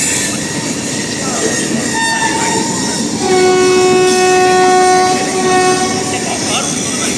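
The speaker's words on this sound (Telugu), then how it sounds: "మా ట్రైన్ అయితే వచ్చేసింది ఎర్లీగానే" A double-decker passenger train rumbles loudly and close into Vijayawada station, and a long, steady horn blast sounds midway through over the noise of the wagons.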